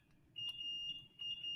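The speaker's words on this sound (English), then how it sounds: "I apologize for the beeping in the background here," A smoke alarm beeps indoors in two long, piercing electronic tones, faint and steady behind a quiet room hum.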